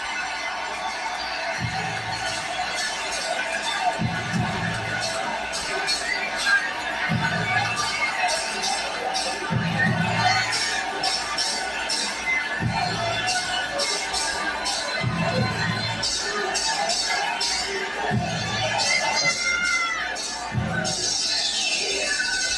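A large crowd at a Claressa Shields boxing match gives off a steady, distant roar of cheering and chatter that lasts throughout, with low repeated thuds at regular intervals under the noise.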